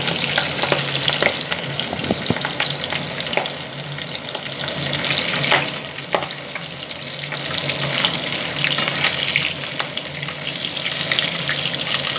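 Magur catfish fry in raw oil in a pan, giving a steady, close crackling sizzle with scattered sharper pops and a few clinks and stirring sounds throughout.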